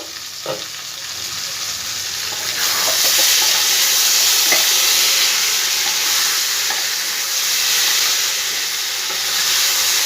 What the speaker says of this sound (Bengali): খুব ভালো করে আমার মশলার সাথে ঝিঙে আলুটা কষানো হয়ে গেছে